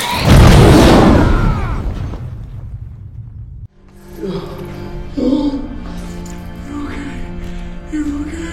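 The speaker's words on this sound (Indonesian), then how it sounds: "dia masih sempat menembak dan terjadi sebuah ledakan" A loud film explosion bursts out after a gas pipe is shot, a heavy booming blast that fills the opening seconds and then fades, followed by quieter scene sound with voices speaking.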